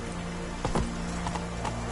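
Roach, Geralt's horse in The Witcher 3, trots along with a few soft hoof clops over a steady background hum, the steps fairly close but not very loud.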